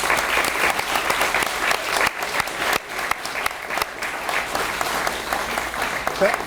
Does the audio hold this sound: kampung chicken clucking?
no